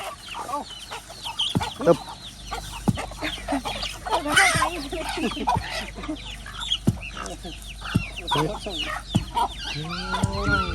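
Flock of farmyard chickens clucking and squawking close by as they feed, in irregular bursts over several seconds, with a rooster crow toward the end and a voice talking underneath.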